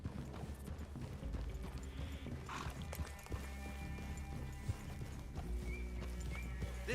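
Horses walk with hooves clip-clopping and whinny in the video game Red Dead Redemption 2. The sound is quiet and steady over a low musical drone, with a louder neigh partway through.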